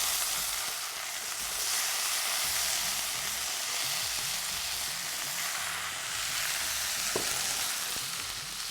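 Brinjal pieces fry with softened onions in a pan, a dense, even sizzle held steadily close by, with faint stirring and one brief clink near the end and no speech.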